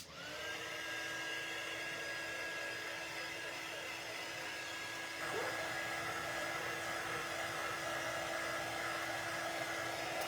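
Hair dryer blowing on a freshly painted cutout, with a steady close whoosh and whine running the whole time and a slight shift in pitch midway.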